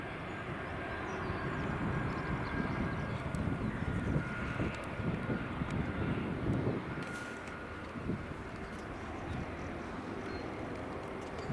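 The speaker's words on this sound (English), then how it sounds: "You've got to love the Airbus A320." Airbus A320 airliner at Edinburgh Airport, a steady, broad jet engine roar heard from a distance that holds for several seconds and then eases slightly, with no talk.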